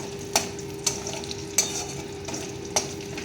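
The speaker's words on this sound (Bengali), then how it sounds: "এবার এই তেলে আমি ফোড়ন দিয়ে দেবো।" Whole spices and torn chili tempering in oil for a Bengali cauliflower curry, with a soft sizzle and four or five crisp spatula knocks spaced about half a second to a second apart, close and fairly quiet.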